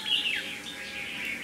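A caged red-whiskered bulbul of Laotian origin sings close by in bright, warbling phrases that sweep up and down, continuing steadily without pause.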